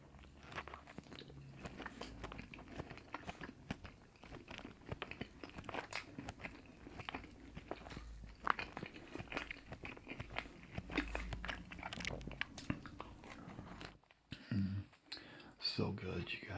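Close, crunchy bites and chewing of Marco's cheesy bread from a pizza meal, with repeated crisp crunches and moist mastication sounds continuing throughout, brief quiet pause near the end.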